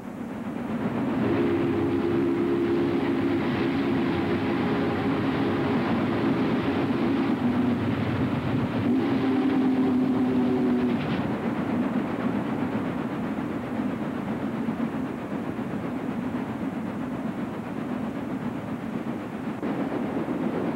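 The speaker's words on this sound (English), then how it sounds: "602 brings the eastbound Sportsman into Little Rock Tunnel on August 20th, 1951." Chesapeake and Ohio steam locomotive No. 602 hauls the eastbound Sportsman passenger train into Little Rock Tunnel in 1951, giving a loud, steady rolling rumble with rail clatter and a sustained whistle-like tone in the first half.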